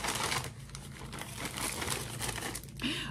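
Continuous crinkling and rustling of a plastic home-goods package being handled and opened, close and steady for several seconds, with no talk.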